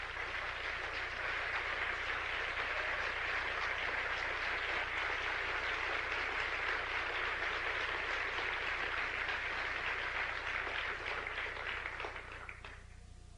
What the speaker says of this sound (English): I would like them to give him a bit of applause